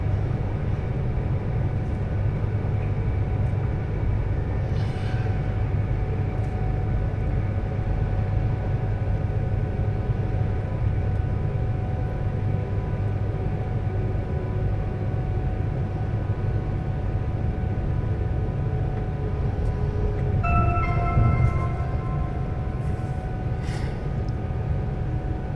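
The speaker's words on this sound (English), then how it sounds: "the train is now approaching Stoke-on-Trent" An Avanti West Coast passenger train runs between London Euston and Manchester, heard from inside as a steady loud rumble and rush with faint tonal whines and brief squeals.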